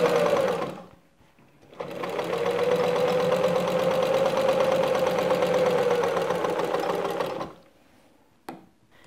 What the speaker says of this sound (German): Wir nähen jeden aufgeklebten Streifen zweimal mit einem Geradstich ab